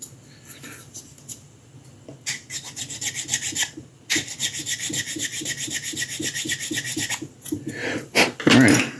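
A hand file rasps across a small resin figure sculpture in quick, rhythmic back-and-forth strokes, close and dry, pausing briefly midway before resuming.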